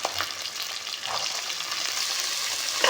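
Fresh avarekalu field beans frying in a hot pan, a steady close sizzle with soft stirring scrapes throughout, no voices.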